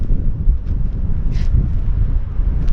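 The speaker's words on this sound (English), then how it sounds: "A little bit of wind which has come in now" Wind gusts buffet the microphone on the Nullarbor coast near a cliff edge, a steady low rumbling roar with no talking.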